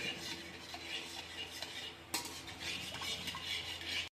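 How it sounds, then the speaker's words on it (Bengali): A spoon stirs flour and milk in a pan for white sauce pasta, a continuous scraping swirl with small clinks and one sharper knock midway, close and fairly quiet. "এবার আমি ভালোভাবে নাড়িয়ে মিলাতে থাকবো যাতে ময়দা একটু দলা দলা না থাকে।"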